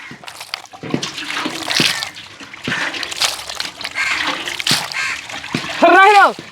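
Water splashes and sloshes in bursts as pieces of a large sea fish are rinsed by hand, with background voices and a crow cawing near the end.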